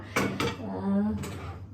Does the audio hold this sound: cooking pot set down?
yes